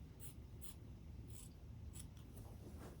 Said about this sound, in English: what I want to do now is just to cut that excess off